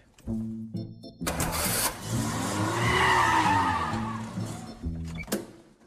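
A 1980s French car starts up and pulls away. Its engine note revs and rises under load, with tire noise and a brief squeal, loud and close before it settles back down.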